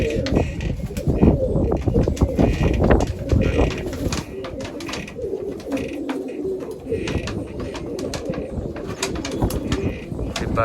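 Pigeons coo and flutter close by, with several birds calling over one another while people talk intermittently in the background.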